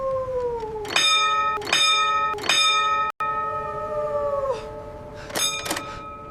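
A ship's warning bell on the Titanic in 1912, struck on a calm sea: three bright, clanging strikes in quick succession, then a long sliding tone and one more ring later, loud and alone.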